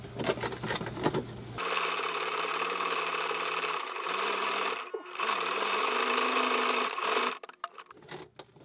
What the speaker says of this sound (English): we have to sew them together about 1 inch, leaving about 1 inch.